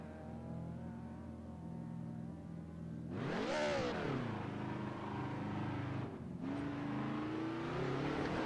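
BMW race car engine in the DTM 92 racing game, idling low, then revving sharply with a rising and falling pitch sweep, dipping briefly at a gear change before climbing steadily again, loud and close with no talk.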